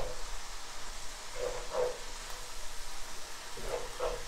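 A Roma tomato mixture sizzles and fries in a pan while being stirred, a steady close hiss with a few soft scraping strokes.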